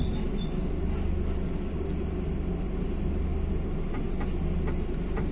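A Thai sleeper train on the Sungai Kolok–Bangkok line rumbles steadily along the rails, a continuous loud rolling roar with faint rhythmic wheel clicks and no talking.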